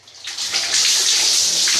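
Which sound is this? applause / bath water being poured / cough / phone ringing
bath water being poured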